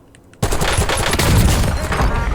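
Sudden burst of rapid gunfire in Call of Duty: Warzone, a dense continuous rattle of shots that starts abruptly after a quiet moment and stays loud.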